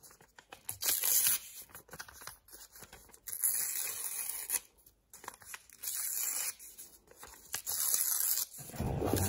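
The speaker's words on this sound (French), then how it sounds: "on va déchirer les bords du papier" Paper being torn along its edges by hand, a series of bursts of ripping and crinkling with short pauses between, close and clear, no talking.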